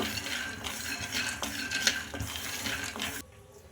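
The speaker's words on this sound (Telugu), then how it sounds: "కడాయి అయితే పెట్టేసుకొని అందులోకి పల్లీలు అయితే వేసుకుంటున్నా ఇంకా చూడండి పల్లీలు అయితే ఫ్రై చేసుకుంటున్నా" Peanuts are dry-roasted in a kadai with rattling, scraping stirs and light clatter of nuts against the metal pan, close and fairly quiet, ending in a near hush.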